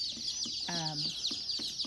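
Young chicks peep and cheep in a brooding chicken tractor on a farm, a busy flock of high, rapid calls with a short lower clucking burst in the middle.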